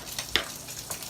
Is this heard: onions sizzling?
yes